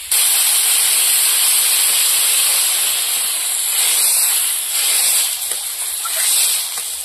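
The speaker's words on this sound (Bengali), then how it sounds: "কষিয়ে নিয়েছি, এবার জল দিয়ে দেবো।" Loud, sustained hissing and sizzling as water hits a sautéed curry in a hot pan, a broad steady steam roar that eases slightly toward the end.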